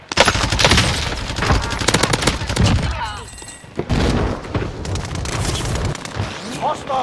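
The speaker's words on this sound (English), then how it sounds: "I'm taking fire!" Rapid, dense bursts of automatic gunfire from a no-recoil LAPA submachine gun in Call of Duty: Warzone, loud and close. The shots come in sustained strings with heavy booms and brief pauses, and game voices sound over them.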